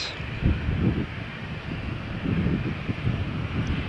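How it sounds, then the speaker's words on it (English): A Ryanair airliner taxiing for takeoff at Malaga Airport on a stormy morning: a distant, low engine rumble that swells and eases in soft pulses over a windy background. "Now we see here the Ryanair taxiing for takeoff, destination Dublin"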